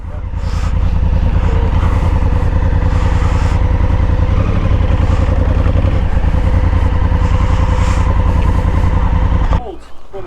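A cold Honda Africa Twin motorcycle engine catches and runs with a rapid, rough thumping and some clatter, loud and close, then abruptly cuts out near the end.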